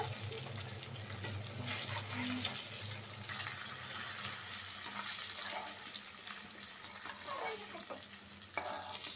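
Hilsa fish frying in oil on one stove while rice cooks on another, a steady close sizzle with stirring and scraping clatter and faint running water throughout, under occasional speech.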